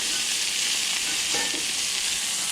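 Ribeye steak sears over high heat in a pan, giving a loud, steady broadband sizzle that runs unbroken with no voices.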